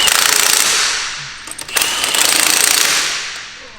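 A pneumatic impact wrench rattles in hard bursts while lug nuts are tightened on a car wheel being mounted, loud and close, with a brief dip between runs.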